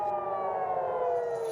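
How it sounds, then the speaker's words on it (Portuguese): Air raid sirens wailing over Tel Aviv and Jerusalem, a single steady, faint, distant tone held for a moment with no voices. "As sirenes foram ouvidas em Tel Aviv e Jerusalém."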